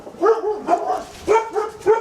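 Dogs heading out to greet neighbors at the mail, giving loud, close barks in quick bursts of about five or six yips and woofs.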